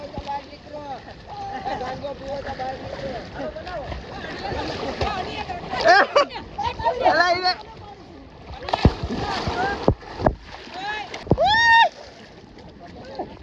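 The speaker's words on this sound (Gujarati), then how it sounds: "આ વિનોદભાઈ બોટ નાવ લઈને આવ્યા" A rowboat moves through water in a village while steady splashing and sloshing carry on close by; several voices talk loudly over it throughout, with sharper splashes near the middle and end.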